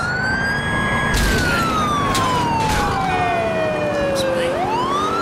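Police car siren from the GTA IV game wails loudly and steadily with a gliding, falling pitch that swoops back up near the end, backed by a constant traffic roar.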